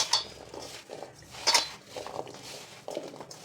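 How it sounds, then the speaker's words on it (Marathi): Raw mango pieces being tossed and mixed with turmeric and salt in a metal bowl, giving soft scraping, clinking and patting sounds in irregular bursts, close and moderately quiet with no voices. "असं सर्व फोडींना लागेल असे हळद आणि मीठ असं व्यवस्थित मिक्स करून घ्यायचं आहे"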